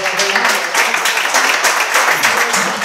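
Applause from an audience at a poetry recital honouring a poet, a dense, steady wash of many hands clapping that continues for about three seconds with no talk over it.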